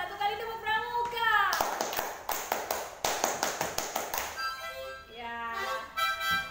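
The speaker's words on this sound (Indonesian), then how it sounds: "satu kali tepuk pramuka" Scouts perform the Pramuka rhythmic clap, a quick run of sharp, closely spaced hand claps in a patterned rhythm that builds and then stops, with a voice calling it out before and talk resuming after.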